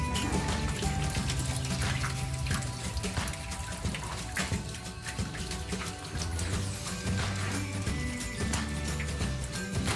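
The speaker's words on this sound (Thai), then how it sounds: "ปล่อยน้ำออกนะคะ แล้วก็จับได้สะดวก" Water rushes and splashes steadily as it is drained out of a catfish pond on a farm, a continuous moderate gushing flow without speech.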